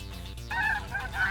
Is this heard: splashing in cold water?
no